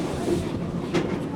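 A zoo park tour train rumbles steadily past an East Africa exhibit, a continuous mid-level rolling drone with faint rhythmic clatter and no talk.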